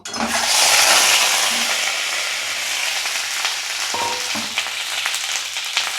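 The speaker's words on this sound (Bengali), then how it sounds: "এখন এর মধ্যে আমি এই বেছে রাখা ডিমগুলো দিয়ে নুন হলুদ দিয়ে ভালো করে ভেজে নেব" Boiled eggs drop into hot oil with salt and turmeric, setting off a loud, hissing sizzle that settles into steady frying, with occasional clinks and scrapes of a utensil close by.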